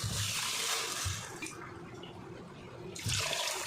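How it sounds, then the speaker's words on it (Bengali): Water splashes into a pan from a bowl for langcha sugar syrup, pouring close by in two rushing bursts separated by a quieter pause. "এখানে দেখো আমি শিরাটা বানানোর জন্য জলটা দিলাম।"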